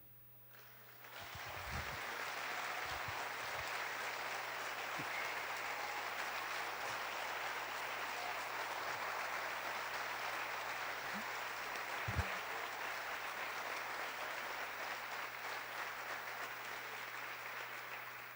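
A church congregation claps together in sustained, steady applause that fills the room, moderately loud and even throughout, with a few faint voices underneath.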